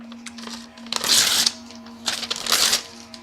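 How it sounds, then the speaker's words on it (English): Paper torn up by hand in two rough, crackling bursts, close and loud, with a steady electrical hum beneath and no voices. "I just teared up some paper"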